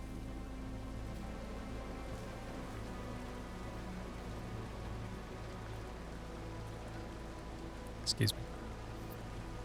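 Steady rain hisses softly and evenly in a video game, with a brief voice speaking near the end.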